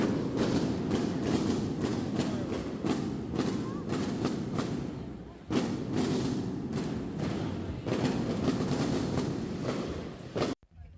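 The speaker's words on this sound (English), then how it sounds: "Which did in fact turn out to be fireworks." Fireworks in a street in Malta: a long run of sharp, booming bangs in rapid irregular bursts, loud and close, with brief pauses between volleys.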